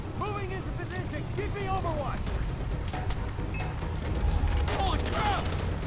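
Gunfire in the video game Far Cry 3, a sustained rattle of shots and dull booms under a continuous rumble, with someone talking over it throughout.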